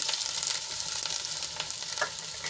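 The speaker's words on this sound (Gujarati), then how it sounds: "આદુને આપણે પંદરથી વીસ સેકન્ડ જેટલું સાંતળવાનું છે વધારે નથી સાંતળવાનું" Grated ginger sautéing in hot oil with a pinch of asafoetida, a loud, steady, crackling sizzle that stays close and continuous throughout.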